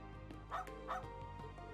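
A dog in the game Trails into Reverie gives two short yipping barks about a third of a second apart, over a steady humming game soundtrack at moderate volume.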